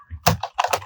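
A few quick keystrokes on a computer keyboard while Python code is entered in an editor, crisp clustered taps up close with no talking.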